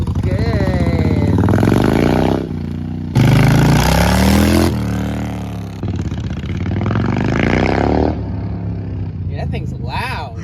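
Honda VFR800 sportbike engine revs loudly nearby in repeated surging bursts of rising pitch, with people talking over and between the revs.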